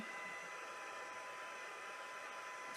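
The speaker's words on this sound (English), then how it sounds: "So low setting on the heat tool, and I'm gonna heat up the back and then heat up the front just to kind of help it uncurl a little bit." Heat tool on its low setting drying and uncurling stamped card for papercraft, giving a steady quiet airy whoosh with no talk.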